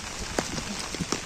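Steady rain falling outdoors in a village, a dense continuous hiss with a few scattered louder drips and taps, no one speaking over it.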